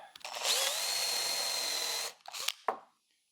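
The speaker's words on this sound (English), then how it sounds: "little bit of drilling." A power drill whirs steadily for about two seconds as it bores into wood, followed by a short burst and a couple of knocks.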